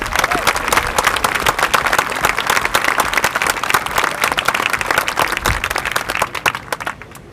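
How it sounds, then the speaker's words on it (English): Crowd at a Vietnam veterans remembrance event bursts into sustained, loud applause, dense clapping from many hands holding steady for several seconds before tapering off. "let's have a hand of applause for them"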